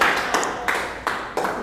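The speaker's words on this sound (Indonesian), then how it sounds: "Berikan tepuk tangan untuk kelompok 2" Sparse classroom clapping for a student group during a micro-teaching lesson, a handful of sharp claps landing roughly every third of a second over a faint background murmur.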